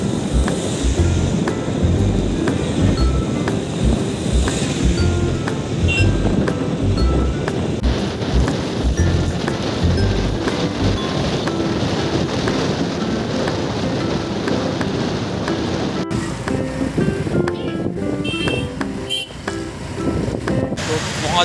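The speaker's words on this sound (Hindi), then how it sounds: "अभी बारिश थोड़ा जोर से गिरने लगा है।" Dense, steady rainfall hisses loudly and continuously in Guwahati, with a low rumbling wash underneath, close by and without pause.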